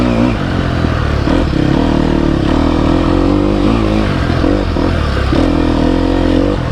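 Four-stroke 304cc engine of a 2020 Sherco 300 SEF Factory motorcycle, a steady loud running drone with shifting revs and mechanical clatter, close and continuous with no talk.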